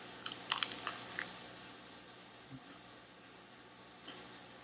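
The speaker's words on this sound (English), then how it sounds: "The corn tortilla, you hear how crunchy it is?" A crunchy corn tortilla taco filled with Flamin' Hot Cheetos is bitten and chewed, giving a quick cluster of crisp, close crunches in the first second before things go quiet, with one faint crunch later.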